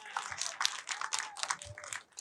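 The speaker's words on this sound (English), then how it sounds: "Another round of applause for Matt Tyrnauer." Scattered applause from an audience greeting filmmaker Matt Tyrnauer at a political documentary event, fairly faint irregular clapping with no talk over it.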